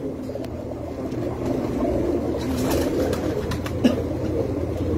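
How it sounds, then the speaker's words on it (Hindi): Rooftop pigeons keep up a soft, continuous cooing, low and rolling, with a brief sharp tap near the end against a steady ambient hum. "ये भी जी बड़े मशहूर कबूतर है जी मेरे छत वाले और टेडी"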